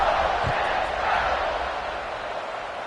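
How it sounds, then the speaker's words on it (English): A stadium crowd buzzes in a College Football 26 video game after a score, a steady low roar of many voices that fades slightly toward the end, with a commentator talking over it. "this crowd is buzzing after that last score"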